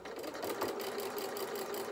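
A sewing machine stitches a seam on a fabric bear head, a fast, even mechanical whirr with a faint rhythmic needle tick, heard close and steady for two seconds with no talking.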